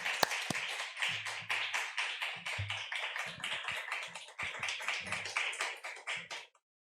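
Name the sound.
congregation clapping to welcome the pastor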